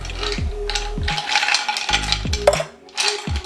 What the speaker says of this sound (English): Let's get some ice in there so we can go ahead and get a chill on it.